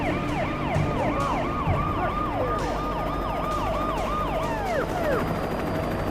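A police car siren in the video game Alan Wake wails continuously in rising and falling sweeps, loud and steady, with road and engine rumble beneath it and no talk.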